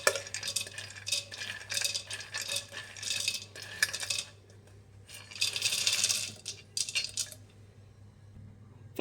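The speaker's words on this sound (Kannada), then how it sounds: "ಒಂದು ಮಿಕ್ಸಿ ಜಾರ್ ತೊಗೊಂಡಿದ್ದೀನಿ. ಇದಕ್ಕೆ ಕಡಲೆ ಬೀಜ ಎಲ್ಲ ಹಾಕ್ಕೊಳ್ಳಿ" Dry peanuts tumble and clatter into a mixer jar, a run of rattling, pebbly bursts that start and stop over several seconds, close by with no talking.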